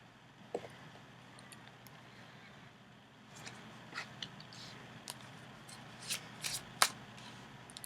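Tarot cards being shuffled by hand, a soft steady riffle that builds into louder, sharper card slaps and flicks toward the end, close up with no voice.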